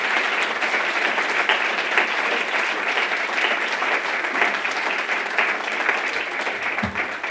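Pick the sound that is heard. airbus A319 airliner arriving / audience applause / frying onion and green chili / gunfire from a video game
audience applause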